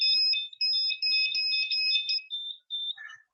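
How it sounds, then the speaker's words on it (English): A small Arduino-driven buzzer sounds after a button press, giving a shrill, piercing electronic tone in rapid stuttering bursts for about three seconds, close and loud. "And now you understand why you don't give the buzzers out until you're ready to do it."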